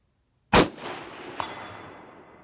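A single loud, sharp rifle shot from a Howa 1500 Mini-Action chambered in 6.5 Grendel, followed by a long reverberant decay and a faint distant ring of the bullet striking a steel plate.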